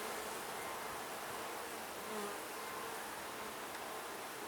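Honey bees buzz softly and continuously, a faint, even hum of many insects close by.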